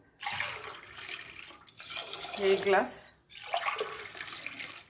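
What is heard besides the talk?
water pouring into pot of rice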